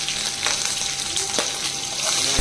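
Onions and chilies frying in hot oil in a home kitchen, a steady close sizzle with a few brief clinks and stirring sounds, and no talk.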